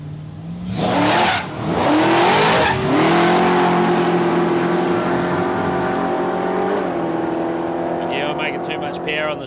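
Drag racing cars, including a Ford Falcon, launch at Palmyra Raceway in Australia, one spinning its tyres off the start line: loud revving engines rising in pitch with tyre squeal, then a sustained roar fading away, with commentary over it.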